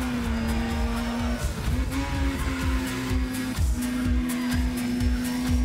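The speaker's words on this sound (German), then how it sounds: "Hätte nicht gedacht, dass ich so viel Spaß an einem Wankelmotor haben würde." Mazda RX-8 style X8 car with a Wankel rotary engine racing in Need for Speed ProStreet, a high buzzing rotary whine holding steady with brief dips between gear shifts, tire noise underneath, moderately loud and without speech.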